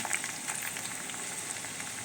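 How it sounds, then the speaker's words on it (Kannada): Curry leaves crackle in hot oil for a South Indian tempering, producing a steady dense sizzle with scattered small pops, close and fairly quiet. "ಇದು ಕರಿಬೇವಿನ ಸೊಪ್ಪು ಹಾಕ್ತಾಯಿದ್ದೀನಿ ನಾನು."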